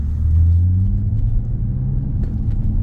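A deep, steady car exhaust rumble drones throughout at an even level, low and boomy with no voices over it.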